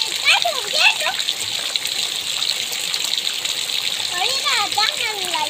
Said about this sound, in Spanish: el agua corre, pero miren cómo va subiendo el agua de rápido